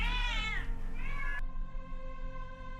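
A cat in the video game The Excavation of Hob's Barrow gives two drawn-out, wavering meows in close succession, clear over a low background hum, with no voices.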